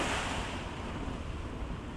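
Choppy waves wash continuously at a fishing spot on a bay in the San Francisco area, a soft, even broadband rush with no talking.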